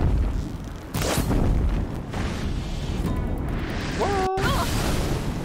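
An explosion in a video game, heard as booming blasts and crashing impacts amid busy game audio, with a brief synthetic tonal effect near the end and no talking.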